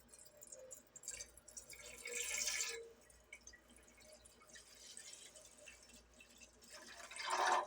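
Water is poured into a pot in a few quiet, uneven splashing bursts and trickles with drips between them, close but faint, with no talk.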